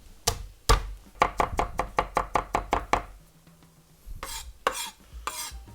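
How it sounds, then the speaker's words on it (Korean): Rapid rhythmic knife chopping as crushed garlic is minced on a board, about a dozen quick close strikes in a steady run, then a pause and a few slower, heavier chops. "마늘 2개는 그냥 으깨가지고 다져줄게요"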